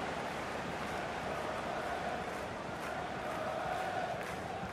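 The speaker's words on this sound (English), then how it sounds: "Oh, the crowd were up on their feet there." A dense, continuous roar from a football stadium crowd at Crystal Palace vs Manchester United in 2018 swells steadily after a missed shot over the bar, loud and unbroken throughout with no clear single voices.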